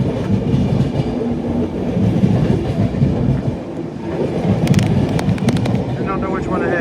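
The Enterprise passenger train rumbles past on a railway line in Northern Ireland, a loud, steady roll with rhythmic wheel clatter and squeals, while people talk nearby.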